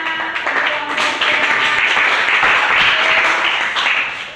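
Classroom applause from a group of students, a dense, sustained patter of clapping at steady loudness through the whole stretch, with a few voices mixed in.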